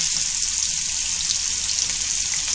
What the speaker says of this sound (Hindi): अभी मैं मादेली डाल रही हूँ इसमें। मादेली ऐसी चुरचुरी होने तक फ्राई करेंगे।